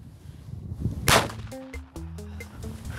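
A firecracker gives a sharp, loud crack about a second in, followed by scattered clatter and faint ringing tones.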